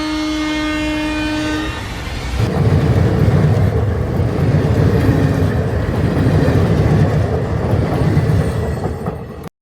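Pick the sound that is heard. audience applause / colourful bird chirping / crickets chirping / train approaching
train approaching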